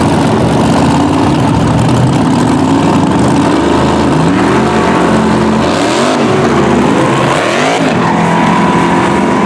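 A nitrous-fed Corvette drag car making a pass, its engine roaring loud and close with rising and falling revs that climb sharply near the end.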